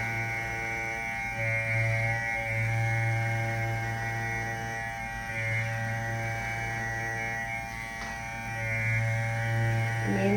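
An electric hair clipper hums steadily up close while cutting hair for a classic comb over, with a constant buzzing drone that swells slightly in short passes as the blade works through the hair.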